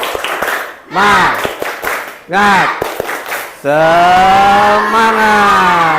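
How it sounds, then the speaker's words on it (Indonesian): Schoolchildren in a classroom do a rhythmic spirit clap, bursts of quick patterned claps punctuated by loud chanted shouts from the group, ending in one long drawn-out group cry. "Tepuk semangat."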